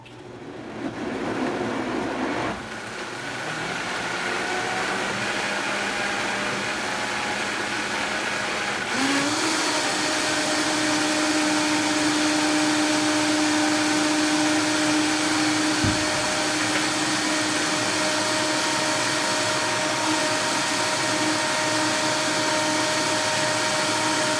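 A blender whirs through a strawberry banana white miso smoothie, starting at a lower hum and then jumping to a loud, steady high-speed roar that runs on continuously without any voices.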